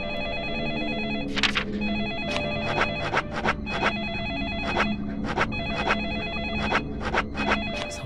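A telephone rings over and over in the video game Deadly Premonition Origins, bright electronic trills repeating in regular bursts above a low hum of background game ambience.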